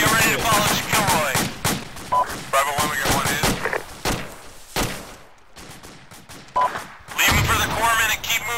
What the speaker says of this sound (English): Taking grenade fire!